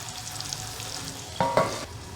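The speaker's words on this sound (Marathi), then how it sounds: "भाजीला 2-3 वेळा ढवळून घ्यायचं आहे, जेणेकरून टमाटा खाली लागणार नाही" A potato and tomato curry sizzles quietly in a pan, then a spoon scrapes and stirs it twice in short, louder strokes near the end.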